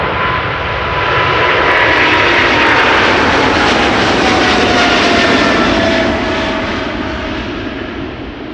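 KLM Boeing 777 airliner, ten years old, at Amsterdam Schiphol: a loud, close jet roar swelling to a peak and then slowly fading, with a high engine whine gliding downward.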